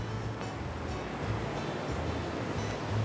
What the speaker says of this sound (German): Hört ihr das laute Rauschen hier?